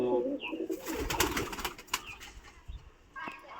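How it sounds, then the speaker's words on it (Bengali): Pigeons coo and flutter softly, close by, as they are let out into a new, larger netted loft, with low rumbling coos and brief wing sounds over faint background noise. "তো এই পায়রা ছাড়ছি"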